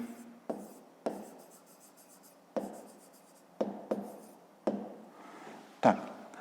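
Pen strokes on paper while working a fifth-grade math exercise, in short close scratchy bursts, each starting sharply and fading, with about six separate strokes and no talk.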